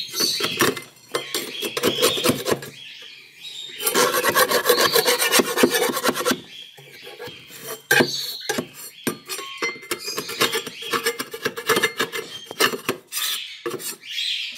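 Rough scraping of caked dirt off a wooden nest box, repeated rasping strokes in quick bursts with short pauses, close and fairly loud, occasional light clinks between passes.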